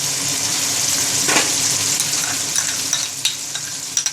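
Green chilies frying for chana pulao sizzle and crackle loudly in a hot pan, a steady bright hiss with a few stirring clicks toward the end.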